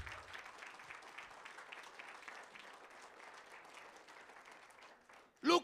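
A church congregation claps together in a sustained, dense round of applause that holds steady for several seconds before a brief loud burst at the end.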